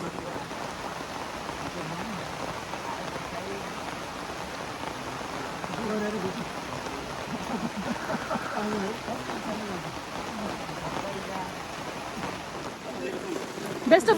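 Rain falls during the rainy season on a cardamom farm, a soft, steady patter that continues throughout the scene.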